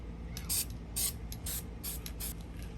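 Short hissing bursts of spray paint applied over raw metal at the rear of a car, about six quick sprays in a steady rhythm over a low background hum.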